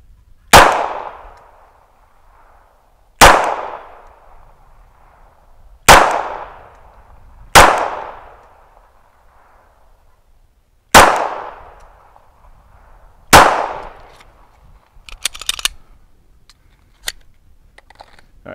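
A Glock pistol fires single sharp shots at a 10-yard outdoor range during reload drills, six loud reports spaced a couple of seconds apart, followed by faint clicks of magazine handling.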